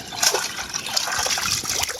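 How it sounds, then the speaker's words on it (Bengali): Water trickles and splashes steadily down into a canal, a close, continuous liquid flow with small gurgles and spatters, no voices. "পানি কিভাবে নামতে আছে"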